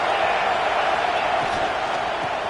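Stadium crowd at a Cal versus Alabama college football game, a steady, dense roar of many voices filling the whole stretch without pause, loud and distant-sounding, with no clear individual words.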